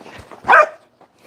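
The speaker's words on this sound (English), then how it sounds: "So if you get your dog to bark" A dog gives one sharp, loud bark with a softer whine before it and a faint yip trailing after.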